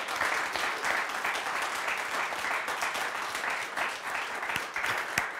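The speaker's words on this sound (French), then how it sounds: "pouvez l'applaudir, Lola, applaudir nos candidats" Studio audience on a French film quiz show applauds the contestants, a dense steady wash of clapping that holds at even loudness throughout with no talk over it.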